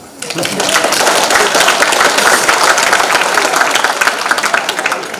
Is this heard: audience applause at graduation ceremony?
yes